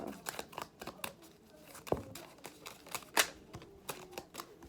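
Tarot cards are shuffled and drawn by hand for a reading. The sound is quiet: soft crisp flicks, rustles and taps that come in an uneven stream.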